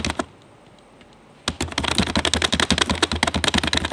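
Rapid typing on a computer keyboard starts after a near-silent pause and continues as a dense, close, steady stream of key clicks with no talking.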